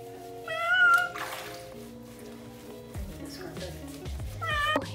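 A cat meows and caterwauls repeatedly while being bathed at a vet clinic, near and fairly loud, with a few drawn-out cries among running water and splashing.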